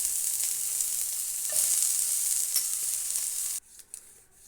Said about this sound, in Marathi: कांदा हलवून चांगला खरपूस होईपर्यंत परतून घ्यायचा आहे